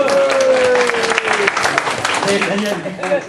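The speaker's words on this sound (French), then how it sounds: "On l'applaudit." Audience applause for a performer about to sing at a stage show, a burst of clapping that thins out toward the end under a speaking voice.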